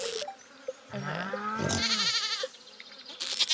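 Goat bleating in the Stardew Valley farming game: one long, wavering bleat near the middle, set between short game chimes and quiet background music.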